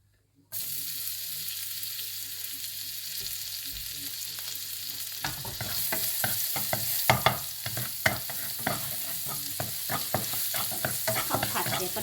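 Garlic goes into melted butter for Thai pork and egg fried rice, breaking into a loud steady sizzle after a brief silence, then turning busier with clattering stirring scrapes in the pan over the hiss.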